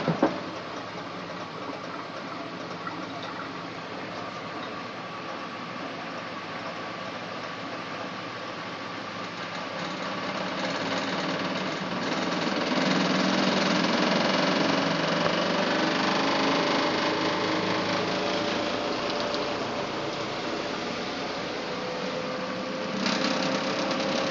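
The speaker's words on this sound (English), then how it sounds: "so you can hear how well this big King Size Duvet balances and spins out in this tiny little machine" A small twin tub washing machine spinning out a king-size duvet whirs and rumbles continuously in a steady mechanical spin, swelling slightly louder midway, with a broad rushing hum and no voices.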